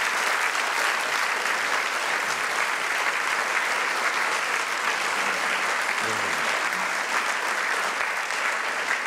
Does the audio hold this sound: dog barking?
no